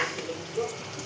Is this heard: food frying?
yes